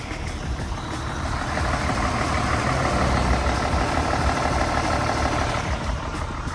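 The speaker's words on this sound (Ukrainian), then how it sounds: "Дивіться, давайте послухаємо двигун." A diesel car engine idling after gearbox and engine repair, a steady low rumbling drone that swells slightly and holds, close and alone.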